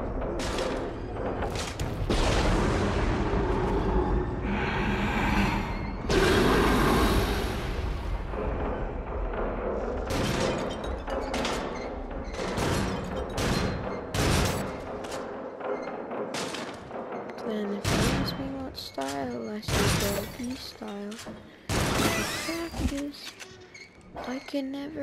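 Gunshots from shooting in the VR rail shooter Until Dawn: Rush of Blood, loud repeated bursts and booming blasts spread through the clip, with talk and game sound mixed in.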